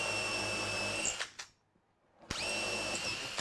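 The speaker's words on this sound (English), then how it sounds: "This is a lovely drill." An electric drill with an electronic clutch whirs steadily at high speed, cuts out briefly into near silence, then spins back up and keeps running loud and close.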